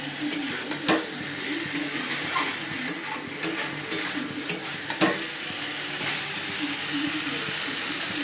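Cumin, dried red chillies, cardamom and cinnamon sizzle loudly in hot oil as a tempering for chana dal, with a continuous close crackle broken by several sharp stirring scrapes and clicks against the pan.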